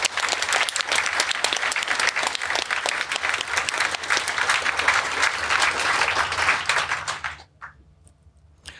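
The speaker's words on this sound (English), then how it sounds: "Can I have a round of applause for the sponsors?" An audience at the EMF 2016 event applauds the sponsors, a dense, loud sustained clapping that fills the room for about seven seconds before cutting off to near silence.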